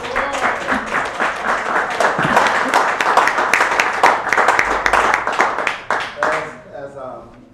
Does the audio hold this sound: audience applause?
yes